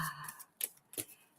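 Tarot cards are shuffled and spill out, giving a few quiet, crisp snaps and flicks with short pauses between them.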